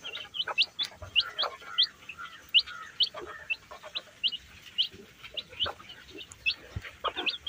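Young native country chicken chicks chirp in quick, high, repeated peeps, several birds calling close by in an irregular, busy flurry with no talking.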